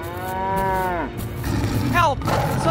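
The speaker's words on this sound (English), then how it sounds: "Oh no! The cow is trapped!" A cow moos loudly and close, one long drawn-out low call followed by a shorter rising call, set in a farm animal diorama play scene.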